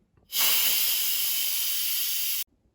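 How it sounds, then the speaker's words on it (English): A steady, loud hiss of steam venting under pressure from an Instant Pot quick release after cooking artichokes, starting abruptly and holding for about two seconds before cutting off. "so let's quick release the steam."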